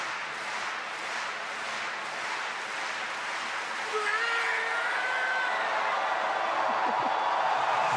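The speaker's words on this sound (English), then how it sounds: "it is rising on the crowd noise" Crowd noise swells in a stadium during the decathlon discus final throw, a broad roar rising with whoops and shouts, while a commentator speaks over it.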